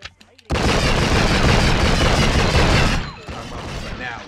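Loud, dense gunfire from the video game True Crime: Streets of LA, a sustained barrage of rapid shots and booms that cuts off abruptly, followed by quieter scattered shots and game sounds.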